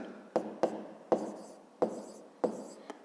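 Someone writes numbers by hand on paper during a fifth-grade maths exercise, leaving six sharp taps and scratches of pen or chalk, each with a short fading stroke, close and quiet with no talking.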